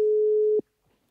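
A single long steady telephone tone sounds loud and close for about half a second on a call that goes unanswered, then cuts off into near silence.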